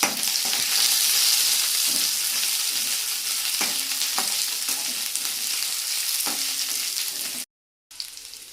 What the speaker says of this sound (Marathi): त्याच्यामध्येच आपण लसूण टाकूया आणि आलंही टाकते मी. आता हे आपण एकत्र परतून घेऊया.